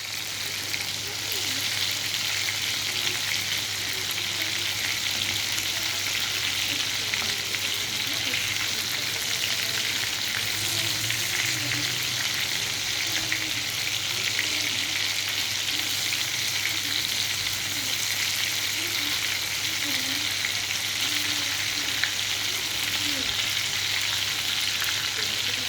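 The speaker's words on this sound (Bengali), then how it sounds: "এগুলো আমি লাল লাল করে ভেজে নেব" Soya chunks fry in hot oil until reddish brown, giving a steady, dense sizzle that runs unbroken throughout with no voices over it.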